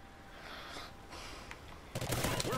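Rapid gunfire in the Ghost multiplayer shooter, a burst of close, loud shots crackling in from about two seconds after quieter game ambience, with no talking.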